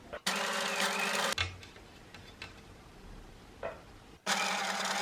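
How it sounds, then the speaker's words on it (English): A domestic sewing machine runs a zigzag and then a back stitch in two bursts of fast, even motor whirring with needle ticking, close and clear. A quieter pause with faint handling sounds separates the two runs. "I'm just going to do a zigzag and then a back stitch with it."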